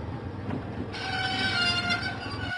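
A diesel engine from a Thomas & Friends video game sets out along the track: a continuous rail rumble with rolling wheel noise, and a steady brighter tone joining partway through, with no talk.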